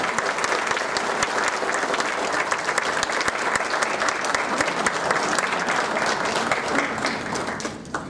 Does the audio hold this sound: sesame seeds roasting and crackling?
no